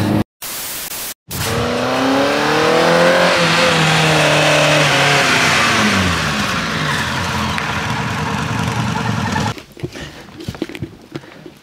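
A modified Audi 50 with 130 hp launches hard and accelerates, its engine note rising loud and close through several gear changes with strong wind and road roar, before fading into rustling noise at the end.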